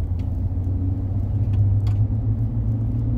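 Steady low rumble inside a moving car, continuous and fairly loud, with a few faint clicks or rattles on top and no talking.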